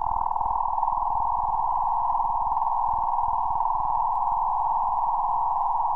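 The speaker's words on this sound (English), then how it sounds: "This is about what the sun would sound like if you sonify its pulsations." Sonified pulsations of the Sun form a steady, continuous electronic hum made of many layered tones, holding evenly at moderate loudness for the whole stretch with no talk over it.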